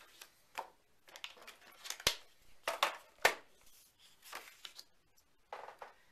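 Ivory cardstock being cut in half with a trimmer blade, a series of short, quiet scraping cuts in an irregular rhythm, close and alone.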